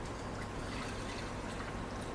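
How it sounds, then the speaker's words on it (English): Water poured from a mug into the tank of a Gevi grind-and-brew coffee maker, a faint continuous trickling splash with no pauses. "we put all water in the tank"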